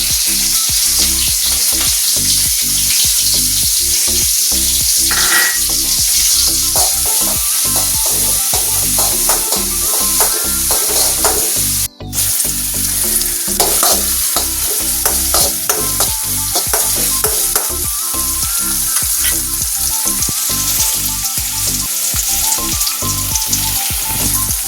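Crushed onion and garlic frying with mustard seeds in hot oil, a loud steady sizzle with constant rhythmic stirring scrapes against the pan, close and continuous, no talking.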